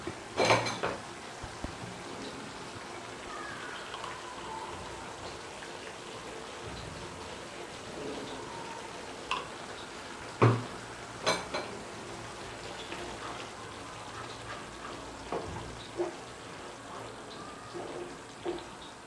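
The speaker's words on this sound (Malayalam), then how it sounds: "ഇനി അതൊന്ന് ഇളക്കുക." A spoon scrapes and clinks against a pan while ash gourd halwa cooked in ghee is stirred, with irregular metallic taps and soft sloshing spread over a steady kitchen background.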